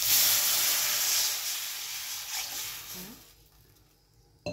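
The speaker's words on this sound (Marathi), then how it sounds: "ह्याच्यात पाणी घालत" Water poured into a hot pan of tempering with cumin, mustard seeds, chillies and turmeric bursts into a loud, broad hiss. The hiss fades steadily over a few seconds and ends with a sharp clatter.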